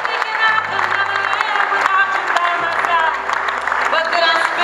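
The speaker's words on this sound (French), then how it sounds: "on peut encore l'applaudir bien fort" An audience at a sports merit award ceremony claps steadily and loudly throughout, a dense sustained round of applause, with a voice speaking over it.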